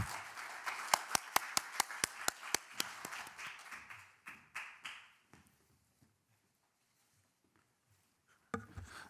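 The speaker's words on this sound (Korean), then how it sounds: "여러분 힘찬 박수로 맞이해 주시길 바랍니다." An audience at a film screening hosted by a diabetes association welcomes the association president with clapping. A few sharp, distinct claps lead into scattered applause that fades to near silence, and a short burst of claps returns at the end.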